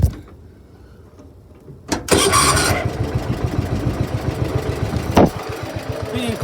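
A cold machinery engine turns over, catches after a quiet stretch and settles into a loud, pulsing, uneven run with a sharp knock partway through; it sounds close with no talk over it.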